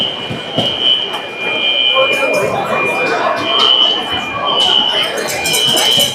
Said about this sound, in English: We just have to get the alarm shut off before we can play again.